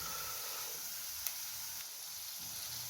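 Ginger and garlic paste sautés in a hot pan with a steady, close sizzle and a faint stir partway through, no voices present.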